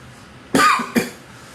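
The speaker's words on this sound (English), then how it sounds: "Excuse everybody for my cough" A person coughs twice in quick succession, a loud hacking burst followed by a shorter second cough, close by with no other sound.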